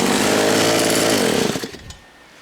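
A small engine on a homemade drivetrain runs loud and steady, then drops off toward idle and fades out near the end, with no one talking.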